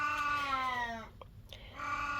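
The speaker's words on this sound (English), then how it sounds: "this is what happens when you have a 20-year-old cat. They are super loud and they don't care that you're filming" A 20-year-old cat lets out loud, drawn-out meows close by, one long wavering cry followed by shorter yowls after a brief pause.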